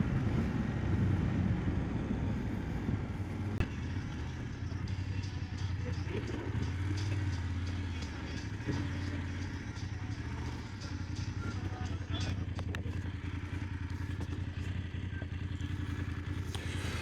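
A motorbike ridden through city streets, its engine droning steadily and fairly close with continuous road and traffic noise throughout, no break in the rumble.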